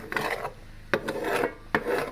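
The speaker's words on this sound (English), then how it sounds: "Got all this goodness scraped off the bottom of the pan." Utensil scraping browned bits off the bottom of a cooking pan while making homemade chili, three rasping strokes in quick succession, close and fairly loud with no voices.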